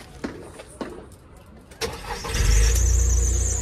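A car engine cranks and starts after a few clicks and thumps, then settles into a loud, steady idle up close, with a high whine running over the rumble.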